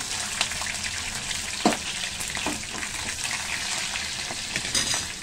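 Mustard seeds, cumin, garlic and green chilies fry in hot oil with a busy, steady crackling sizzle, dotted with sharp spits and pops, close and fairly loud with no talking.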